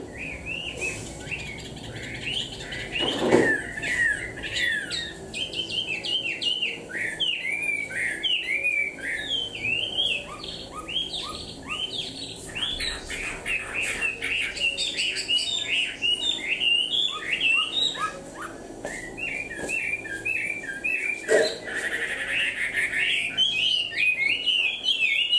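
A caged songbird with freshly grown plumage sings close and clear, pouring out rapid chirps and whistled phrases nearly nonstop over faint room noise, with a few louder bursts.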